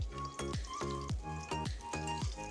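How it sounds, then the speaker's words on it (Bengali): Bitter gourd pieces fry in hot oil until reddish. A close sizzle breaks into loud, crackling bursts that repeat roughly every half second, with no talking. "উচ্ছেগুলো কিন্তু একটু ভালো করে লাল লাল করে ভেজে নেব"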